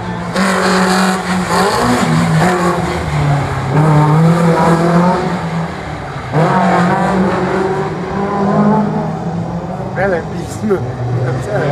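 Citroën BX race car at a slalom event, its engine droning loudly and rising and falling through revs for most of the stretch, with a commentator talking over it throughout.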